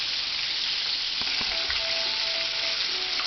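Chicken pieces frying in hot oil after being turned, a loud, steady close-up sizzle with occasional faint clinks and no voices.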